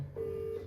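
A phone being dialed: a single short electronic keypad tone, steady and close, lasting under a second.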